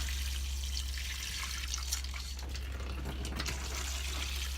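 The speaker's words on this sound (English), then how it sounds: "And then we'll just give everything a little water." Water poured over potted plants in a greenhouse being readied for spring, a steady soft hiss and patter of liquid running and dripping throughout, fairly faint and with no talking.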